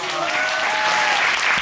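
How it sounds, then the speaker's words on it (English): Audience applause on a televised courtroom show, a steady burst of clapping heard close and even throughout with no break. "They're clapping."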